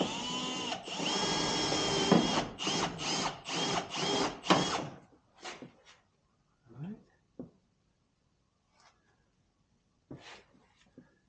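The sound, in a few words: power drill with drill bit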